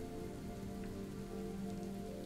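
Steady rain pours over a Road 96 game scene, a dense continuous patter with low tonal hum beneath, with no voices.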